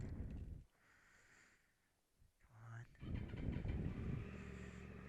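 A motorcycle engine warms up outdoors on a cold, windy night, its low steady rumble fading and then returning louder and rougher after a brief lull, with some faint voices mixed in.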